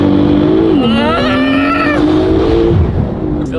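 A factory car using launch control accelerates hard, its engine note climbing steadily and loud throughout, with a brief shift or dip partway through and constant road and wind roar underneath.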